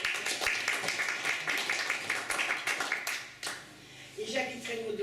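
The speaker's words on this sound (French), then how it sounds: "Philippe Chrétien, applaudissez." Scattered clapping from a small audience at a Front National constituency meeting in Trignac, a few seconds of uneven applause that dies down, followed by a voice speaking.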